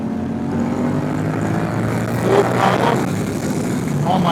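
A Honda Rebel 1100 cruiser motorcycle engine drones steadily under wind noise while riding, with a faint voice briefly heard partway through and the engine tone holding fairly constant rather than clearly climbing.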